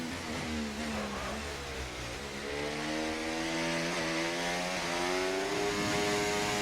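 Aston Martin Formula 1 car from F1 24 driving on track, a steady high-pitched engine whine climbing through the gears with shifts, heard close and alone at a constant loud level.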